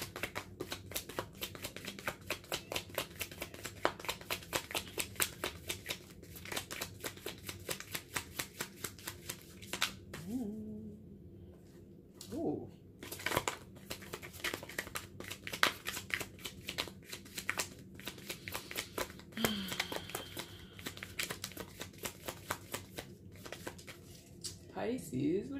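Tarot cards are shuffled in rapid riffling bursts, repeated many times with short pauses, close and fairly quiet.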